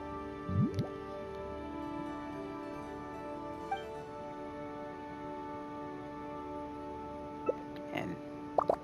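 Wet, squishy splashes of ingredients being poured into a mix in Genshin Impact, with a short burst near the start and a few at the end, set over steady, sustained tonal game music.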